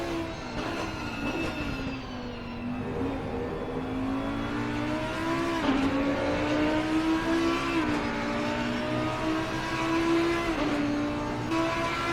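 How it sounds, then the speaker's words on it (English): Race cars lapping Kyalami in a sim racing game produce a continuous engine drone with rising and falling revs, several cars' tones layered close together, shifting pitch at gear changes, with no voices. "You see side-by-side racing up there by Moda and Chris Rise."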